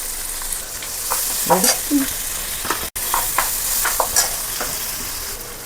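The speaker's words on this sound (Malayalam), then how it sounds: "അപ്പോൾ അതിൽ കാഷ്നട്ട് മുണ്ടി ഇട്ട് കൊടുക്കാം" Cashew nuts fry in a pan for a Kerala-style green rice dish, giving a steady close sizzle broken by soft stirring scrapes and clinks, with no talking.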